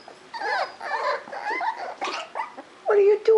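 Young puppies whimper, whine and make small growling yelps close by, in short irregular bursts with squeaky high-pitched cries.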